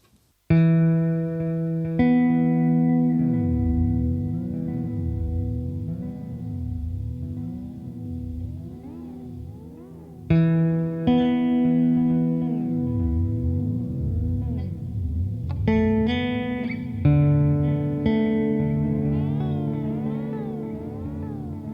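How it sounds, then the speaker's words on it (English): An electric guitar played through a ZOIA pedal with modulated air delay, reverb and amp vibrato rings out in slow sustained notes and chords that wobble and echo, each phrase decaying into swirling repeats with no talking. "I've just turned on a nice modulated delay, the air delay, and a bit of reverb and the vibrato on the amp as well"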